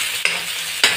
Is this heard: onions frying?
yes